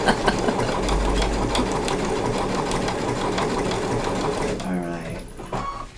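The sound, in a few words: sewing machine stitching an appliqué quilt block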